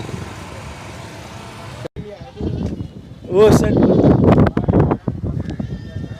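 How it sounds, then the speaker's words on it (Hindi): A nanny goat with a kid bleats loudly and close by at the Bhains Colony livestock market in Karachi, several wavering cries following a stretch of ambient noise, with someone talking over it. "ये बकरी है और पासे वाली है"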